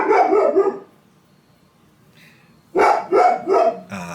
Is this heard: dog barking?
yes